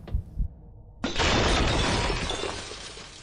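A loud, sudden shatter of breaking ice or glass erupts after a moment of quiet, leaving a long crackling wash of debris that slowly fades.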